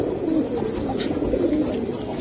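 Pigeons coo continuously at a pigeon seller's stall, a dense, steady murmur of overlapping low calls with no clear pauses.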